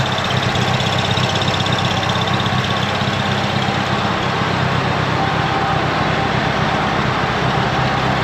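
A VW Bug engine runs steadily with its big gearbox and transfer case turning, a continuous low mechanical drone and hum held at an even level, close and loud throughout with no talk.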